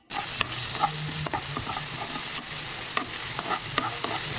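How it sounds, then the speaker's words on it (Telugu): Tomato pieces hit a hot pan of ginger-garlic paste for a ladyfinger curry and fry with a steady sizzle, while a spoon stirs and scrapes with scattered clicks throughout. "ఇప్పుడు టమాటో ముక్కలు వేసి మెత్తబడనివ్వాలి."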